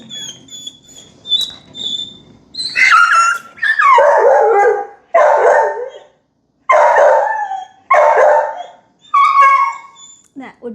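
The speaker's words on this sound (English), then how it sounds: "That would be a demand bark, paired with some frustration." A dog barks and howls repeatedly in drawn-out, insistent bursts, close and loud, with short pauses between each demanding bark.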